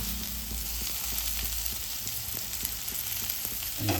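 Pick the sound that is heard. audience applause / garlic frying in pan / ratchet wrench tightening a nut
garlic frying in pan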